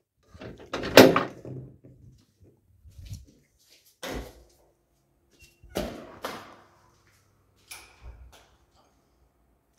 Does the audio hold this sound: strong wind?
no